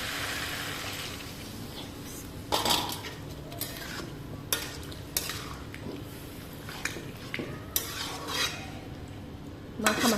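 Mixed vegetable curry being stir-fried in a pan, a spatula scraping and clinking against the metal in irregular close strokes over a soft sizzle, with no talking.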